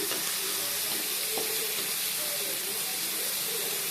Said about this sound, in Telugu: కట్ చేసి పెట్టుకున్నాం మనం ఆనియన్స్ని ఇందులో వేసి ఫ్రై చేయాలి